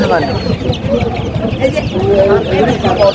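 Farm chicken chicks clucking and cheeping in a busy crowd at a duck and chicken market in Mirpur, Kushtia, loud and continuous up close, with people talking among the birds.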